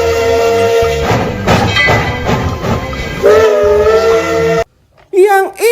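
Steam-style whistle from a Thomas toy locomotive sounds as a loud sustained tone with train noise, then cuts off and gives way to short wavering whistle toots.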